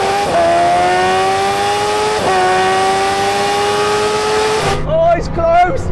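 A superbike and a Bugatti Chiron accelerating hard in a drag race, a loud sustained engine whine climbing in pitch with gear-change dips, then cutting off abruptly as excited voices take over.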